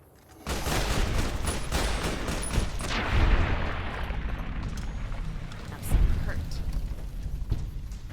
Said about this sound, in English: oh, I did hear gunshots.